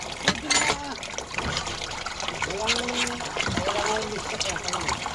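Water trickles and splashes steadily nearby at a fishpond while people talk over it.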